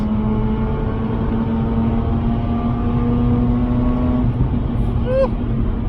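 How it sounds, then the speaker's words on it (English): Mazda RX-8 with a 231 bhp rotary engine holding high revs in a steady, loud drone with strong harmonic tones, easing off near the end while someone talks over it. "Those high revs."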